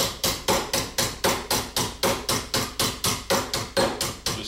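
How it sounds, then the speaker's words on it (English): A metal rib for rear rib forming is hammered flat in a steady run of about seventeen sharp, ringing blows at an even pace, loud and close, with no talking. "once you hammer them flat, and then the process again is just the same as we did on the bottom side of the rib"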